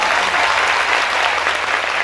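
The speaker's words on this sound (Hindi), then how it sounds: "ये ऐसा विषय के लिए ताली बजा सकते हैं।" An audience at a church gathering breaks into applause. The clapping is loud, dense and steady from start to finish, with no pauses.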